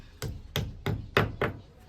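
Fasteners are fitted onto the wall mount for a 43-inch LG LED TV, making five sharp, evenly spaced knocks close up over a quiet background.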